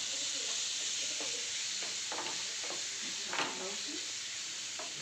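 Chopped red chilies and capsicum sizzle in a hot pan while being cooked for momos, a steady hiss with occasional stirring clatters and scrapes close by.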